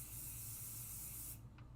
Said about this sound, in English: let's use some pixie spray